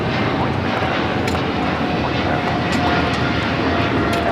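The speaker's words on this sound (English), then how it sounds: "This is American Airlines 2765 taking off to Miami on the 777-300ER" An American Airlines Boeing 777-300ER bound for Miami takes off at Los Angeles LAX, a steady, loud broadband roar of jet engines that holds throughout without a break.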